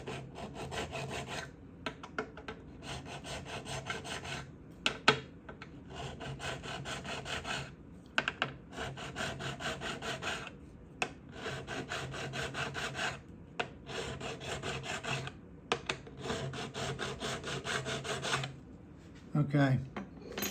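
Steel wool rubbing guitar frets on a fingerboard, a close, raspy scrubbing in repeated back-and-forth strokes with brief pauses between bursts, running steadily throughout.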